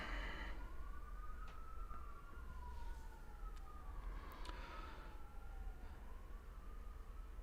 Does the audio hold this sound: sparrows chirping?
no